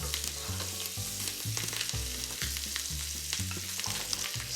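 Sea scallops sizzle in hot oil with a tablespoon of butter and a sprig of thyme, a steady close crackle with small pops and a rhythmic low scraping or stirring beneath.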